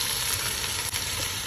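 Ginger and garlic frying in a pan over a clay stove produce a dense, steady hiss with one brief dip partway through. The sound is close and continuous, and no one speaks.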